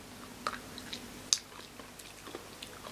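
Quiet, close-up chewing of crunchy Canadian chocolate, with a few sharp crunches and soft mouth sounds, no talking.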